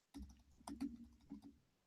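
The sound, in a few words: typing on a computer keyboard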